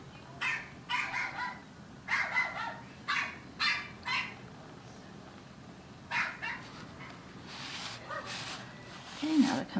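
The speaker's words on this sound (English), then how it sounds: "That's full on bark." A small female dog barks in short repeated bursts at home, close and fairly loud, with little yips and whimpers between them and a quiet background.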